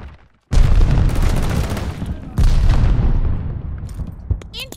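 Two heavy, close sticky-bomb explosions in the shooter game Call of Duty: Vanguard, each a loud booming blast followed by a long rumbling decay.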